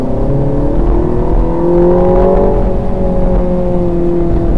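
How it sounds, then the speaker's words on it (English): Mini car engine accelerating in sports mode, a loud steady close-up engine drone with rising harmonic tones as the revs climb, continuous with no talk. "engine totally responsive. The touch of the acceleration."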